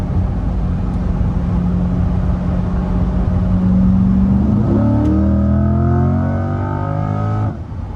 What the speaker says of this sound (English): You should really hear the way this motor opens up